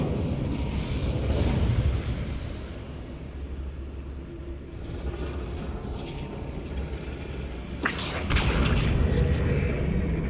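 Incendiary spell blast in the video game Hogwarts Legacy, a sudden fiery burst that cuts through a steady rumbling game ambience, followed by a louder roaring tail.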